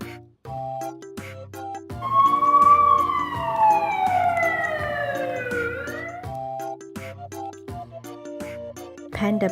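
A toy ambulance sounds a long two-tone siren sweep that swells loudly over a bouncy backing melody and then slides downward and fades.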